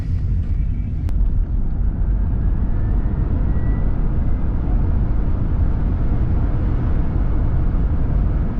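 Steady low road rumble and hum inside the cabin of an electric-assist Tesla-powered Volkswagen Vanagon cruising around 35 mph, a continuous broadband drone with a faint whine and no talking.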